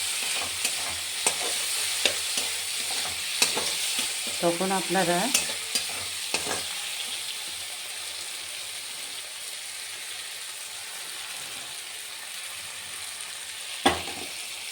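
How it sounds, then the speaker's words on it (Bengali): Onions sizzle in hot oil in a pan for a mola fish curry, a steady close frying hiss with a few quick stirring clinks and brief talk in the first seconds, then continuing alone. "তারপরে দেখুন ঠিক পেঁয়াজটা একটু যখন ভাজা ভাজা হয়ে যাবে"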